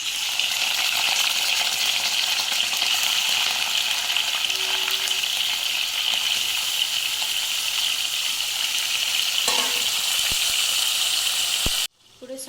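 Chicken pieces fry in hot oil, a loud continuous hiss and crackle running for about twelve seconds before cutting off abruptly.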